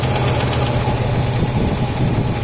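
A 1968 Cadillac Eldorado V8 idles steadily up close, a smooth continuous low rumble with faint mechanical vibration, running alone with no talk.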